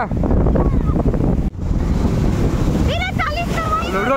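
Sea waves breaking on Mangalore beach at New Year, a loud rushing surf roar buffeted by wind on the microphone, with voices and shouts rising over it toward the end.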